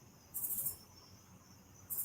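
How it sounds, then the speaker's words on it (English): Crickets give two short, high-pitched chirping bursts, one near the start and one at the end, over quiet background hiss. "Oh, crickets."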